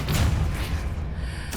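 Depulso force-push spell cast in the video game Hogwarts Legacy, a heavy booming blast with a deep thump at the start that fades into a rushing tail, then a brief sharp burst at the end.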